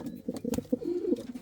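A domestic pigeon coos softly in a breeding loft housing Indian fantails, pouters and frillbacks, a series of low throaty rolling coos close by, with no talk.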